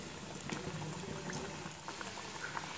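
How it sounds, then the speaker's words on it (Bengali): Veg potato patties fry in hot oil, giving a soft continuous bubbling sizzle with scattered faint pops, low in level and steady throughout. "এটাকেও আমি সেম প্রসেসে লাল করে ভেজে নেব।"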